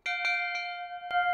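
A large hanging bell on an old mountain trail is struck a few times in quick succession, each clang ringing with a bright sustained tone that lingers after the final strike.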